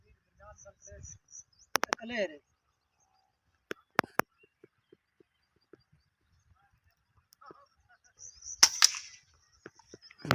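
An air rifle shot from a QS airgun while hunting rosy starlings in Pakistan, heard as a sharp close crack near the middle of the clip. Faint chatter and rustling surround it, and someone speaks briefly near the end.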